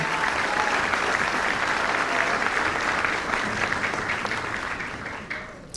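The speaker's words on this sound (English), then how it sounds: "So a round of applause for all they do for us every day" A middle school band concert audience applauds, dense steady clapping from a full crowd that holds loud for most of the stretch, then thins and fades toward the end.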